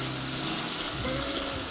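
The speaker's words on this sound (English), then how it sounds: "Now it's time to add our onions." Salted onions with garlic hitting a hot pan, a brief, close, even sizzle and crackle of frying.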